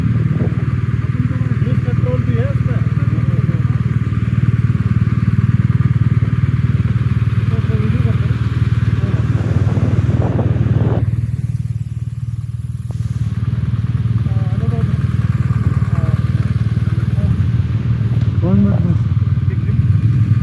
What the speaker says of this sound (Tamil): Full and full of roading bike.